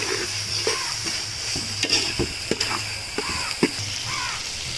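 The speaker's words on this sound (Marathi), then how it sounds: "टमॅटो मस्त फ्राय झाला आहे आपला" Two finely chopped medium tomatoes fry in a pan for misal cooked on a wood-fired stove, crackling steadily under scattered scrapes and knocks of a stirring spoon, close and clear.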